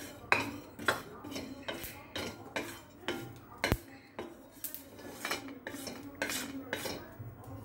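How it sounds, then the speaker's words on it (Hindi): Caraway seeds are dry-roasted in a pan and stirred with a metal spoon: regular light scrapes and clinks against the pan, quiet and close, with no talking. "ये शाह जीरा भून लेंगे।"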